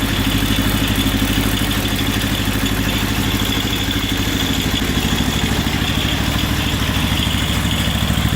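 A steady loud engine idles close by after a long-cranking cold start, either a John Deere 210 or 316 lawn tractor or a Ford F-150 pickup, with a rhythmic clattering pulse running evenly throughout.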